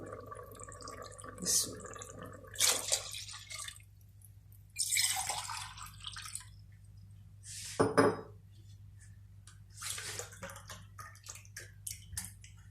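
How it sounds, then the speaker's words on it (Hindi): Two glasses of water pour in a few separate splashing bursts into a metal cooking pot for chana dal pulao, with occasional clinks of cookware between pours. "अब मैं 2 गिलास पानी डालने लगी हूँ।"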